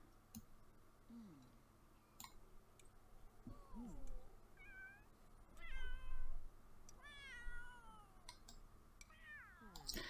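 A cat meows repeatedly, several rising and falling cries spaced across the stretch, some longer and wailing, mixed with sharp clicks and taps in a quiet room with no talking.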